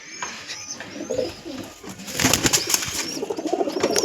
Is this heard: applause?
no